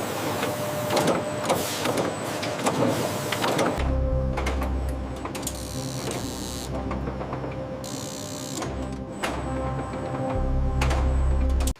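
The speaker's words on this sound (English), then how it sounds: "The machines press the lids onto the cups, creating an airtight seal using intense heat and pressure." Heat sealing machines on an instant ramen production line press lids onto cups, giving loud mechanical whirring, clunks and rhythmic ratcheting, with a busy factory hum underneath.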